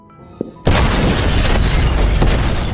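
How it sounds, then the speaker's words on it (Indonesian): A loud explosion in an action film: after a short quiet stretch with a faint click, a sudden heavy boom bursts in and holds as a sustained roaring blast with crackling debris, staying loud to the end. "gara-gara ledakan itu"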